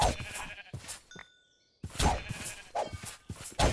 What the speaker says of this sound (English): We have lambs. There's lambs out here. There's just sheep everywhere.